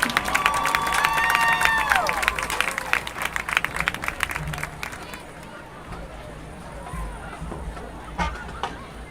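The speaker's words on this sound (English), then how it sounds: "let's give a round of applause for the West Jones Mustang Pride Marching Band" Spectators at a high school football game applaud the West Jones Mustang Pride Marching Band, with crowd clapping and cheering near the start that thins into scattered claps and background voices as it fades.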